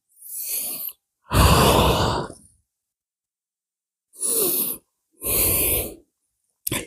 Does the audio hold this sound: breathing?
yes